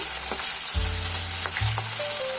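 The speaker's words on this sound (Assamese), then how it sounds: "এতিয়া মই ইয়াক মাছখিনি ভাজি লম" Pieces of fish fry in hot mustard oil in a kadai with a continuous close sizzle, while low tonal background music runs underneath.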